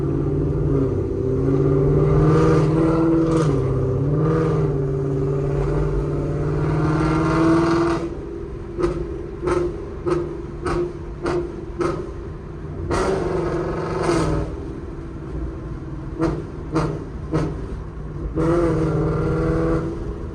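A loud Ford Mustang GT 5.0 with a burble tune revs repeatedly. Its throaty engine swells and falls, and a string of sharp crackling pops comes on the overrun, with no talk.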